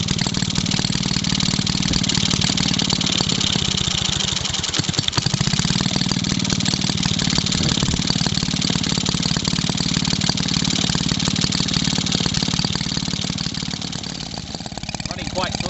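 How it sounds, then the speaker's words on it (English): A Maytag 72 twin engine runs slow after a governor adjustment, with a continuous loud, near putter and a steady low rumble that barely changes, while a voice talks over it at times. "Running quite slow, I think, since the governor was adjusted."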